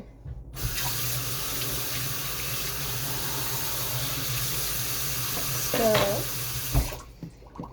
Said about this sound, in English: I just like to rinse these lids before I put them on here